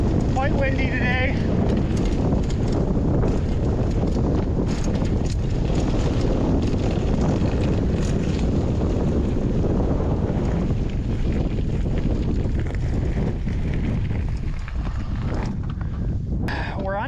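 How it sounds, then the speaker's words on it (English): Gusty wind buffets the microphone along a mountain bike flow trail in Boise, a continuous loud rumble that runs for the whole stretch, with bursts of rustle and clatter on top. "quite windy today"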